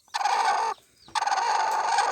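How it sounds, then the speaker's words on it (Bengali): Native chickens in a coop with newly hatched chicks call out in two loud, close, drawn-out bursts separated by a short pause. "ভিতরে কোটের মধ্যে দেশি মুরগির বাচ্চা তুলেছে"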